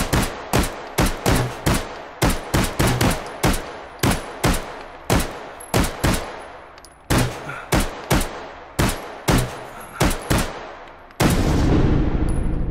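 Rapid pistol gunfire in the VR shooter game H3VR, a long string of sharp, loud, close shots in uneven bursts with short gaps, each crack trailing off quickly, ending in a sustained louder noise burst.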